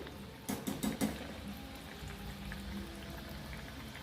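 Semolina and potato vadas fry in hot oil, a soft continuous bubbling sizzle with a few louder crackling pops early on, close by and fairly quiet.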